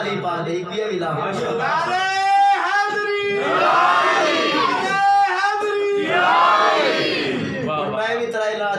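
A large crowd at an Islamic sermon gathering shouts religious slogans in unison, with loud, rising, drawn-out collective chants answering one another and reverberating continuously throughout.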